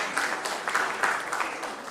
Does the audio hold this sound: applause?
yes